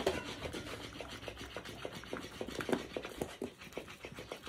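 A puppy gnaws on a plastic bucket handle, giving faint, irregular scraping and clicking chews with soft panting, close by and quiet, with no talk.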